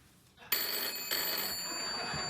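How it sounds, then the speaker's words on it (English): A telephone bell rings loudly in a talk-show studio setting, starting abruptly after a quiet moment, with a second burst of ringing following. "The phone's going to ring before it rings?"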